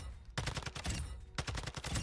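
Two rapid full-auto bursts from a TAC 56 assault rifle fired at a firing range in Warzone 2.0, each a dense string of punchy shots separated by a brief pause.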